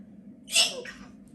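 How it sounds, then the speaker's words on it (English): A single short, high-pitched sneeze, quick and bright, over a low steady background hum. "Whenever someone hits me in the nose, I gotta sneeze."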